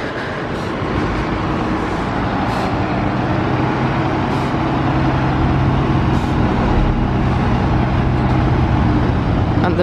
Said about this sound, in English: We've got the Scania manoeuvring over here